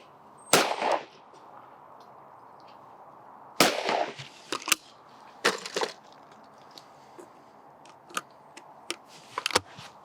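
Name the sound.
20 bore shotgun firing at a clay target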